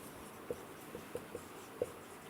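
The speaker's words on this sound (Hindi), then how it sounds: "अब मैं दोबारा से यहां पर फर्नीचर लिखता हूं" Marker or chalk strokes writing a word on a classroom board, a few soft separate taps and scratches with pauses between them, quiet and close with no talking.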